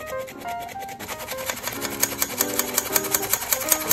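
Flour, tapioca starch, custard powder and baking powder for bubble waffles are sifted with a steady, rhythmic rasping scrape that grows more regular in the second half, with background music playing over it.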